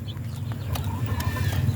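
Soft, high chirps and peeps from several turkey chicks scattered over a steady low rumble of background noise.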